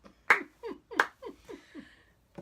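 One person imitates a Deadpool-style slow clap: two loud, deliberate claps spaced apart, followed by a few softer, quicker hand hits fading out, close and alone.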